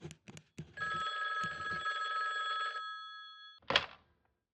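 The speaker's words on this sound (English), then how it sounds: "then the phone rang again" A desk telephone rings in an office, a long sustained electronic bell burst of a couple of seconds following a few short knocks, then a brief sharp clatter as the call ends; no talking.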